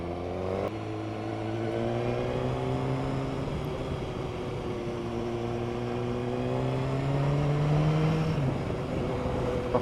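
A motorbike engine drones steadily and close while riding along the B465 road toward Monsell Head, its pitch rising and falling gently with speed changes and a brief gear shift near the start, with no talking.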